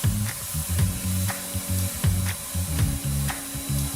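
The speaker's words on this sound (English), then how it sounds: "Next up, Alex's weekly spray tan." Spray tan is misted onto a person in short, close hissing bursts with brief gaps between them, repeating steadily.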